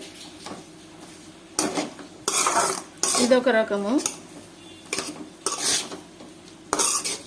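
Amaranth leaves (thotakura) stirred in a pan, a spoon scraping and clanking against the metal in several bursts over a faint sizzle, close up, with a few brief spoken words between the strokes.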